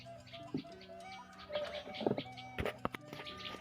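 Small birds chirp outdoors in short, high calls scattered over steady background noise, with some lower cooing notes mixed in.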